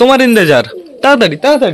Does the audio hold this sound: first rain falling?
no